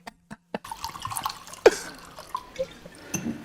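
Drinks poured into two glasses, a short liquid splash and trickle with a few small clinks, heard close and fairly quiet against a faint background hum.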